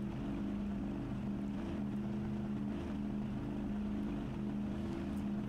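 Engine of a hydrofoil boat in the video game Trailmakers, a steady droning motor hum with low tonal bands, running continuously under wind and water rush, with no talking.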